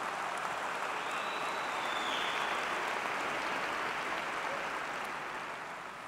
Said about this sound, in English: Let's start by giving yourselves another great round of applause and congratulations.